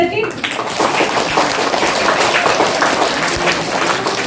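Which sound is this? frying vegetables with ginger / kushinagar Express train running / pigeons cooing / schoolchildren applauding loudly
schoolchildren applauding loudly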